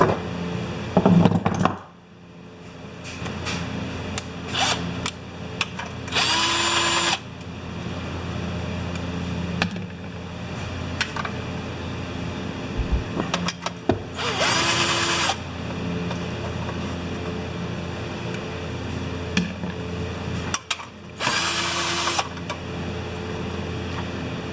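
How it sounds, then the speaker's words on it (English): A power drill takes the rewind starter off a Honda clone engine, with three separate whirring bursts of a second or two each between stretches of quiet shop noise and clinking parts. "I might use a drill."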